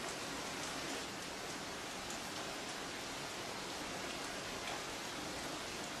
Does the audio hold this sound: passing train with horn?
no